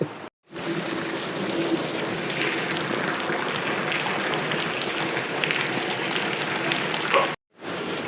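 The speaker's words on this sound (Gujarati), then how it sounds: "મિત્રો વરસાદ આવે છે" Rain falling steadily outdoors at a family home, a dense, even hiss of drops on surfaces, moderately loud and continuous, cutting off briefly at the start and end.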